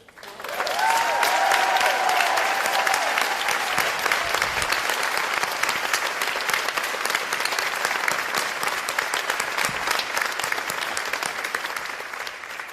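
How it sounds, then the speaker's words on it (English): Sustained applause from an indoor audience at a medical center event for Speaker Pelosi rises quickly and holds steady for several seconds before slowly thinning out. "Speaker Pelosi, we applaud you for your leadership on so many issues"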